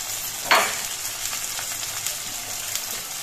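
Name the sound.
onion, green chili and garlic powder stir-frying in a pan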